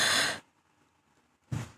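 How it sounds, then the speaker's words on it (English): A short breathy yawn-like exhale fades out, then a brief quiet pause before another breathy burst begins. "Oh, I guess I'm yawning."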